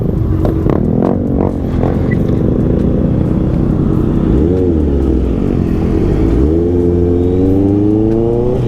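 Several Yamaha XMAX scooters ride past on a mountain road trip, loud nearby engines rising and falling in pitch as each one passes and revs away in turn.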